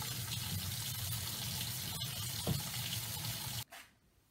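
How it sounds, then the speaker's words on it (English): Water runs steadily from a sink tap while a pole is wet-sanded with sandpaper, a close, even hiss that cuts off abruptly near the end, leaving only a faint trickle. "take it to the sink and gently wet sand it with some sandpaper"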